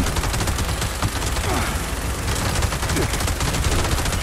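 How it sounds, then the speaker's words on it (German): Sniper rifle gunfire in the video game Fallout, with a dense, loud barrage of shots and booming impacts filling the whole stretch without letup. "Doppelschuss"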